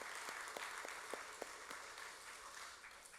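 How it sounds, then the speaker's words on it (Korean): A Korean church congregation gives a round of applause, a faint, steady patter of many hands with a few sharper individual claps standing out. "수고하시라고 박수 한번 하겠습니다."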